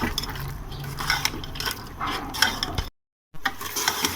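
Mutton ojri (tripe) with methi being stir-fried in oil, a spatula scraping and clinking against the pan in an uneven run of close strokes over a soft sizzle, broken by a brief gap of silence.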